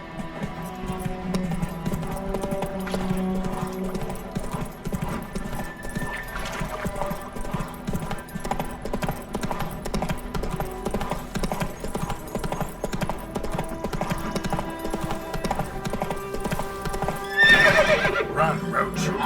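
Hooves of the horse Roach gallop in The Witcher 3 with a steady, rapid clip-clop under continuous game music, and a louder whinny-like burst rises near the end.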